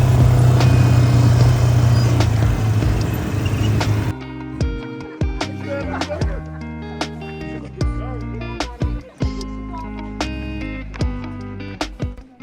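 An ATV engine hums steadily on dusty valley paths in Cappadocia for a few seconds, then gives way to a plucked string melody with distinct rhythmic notes.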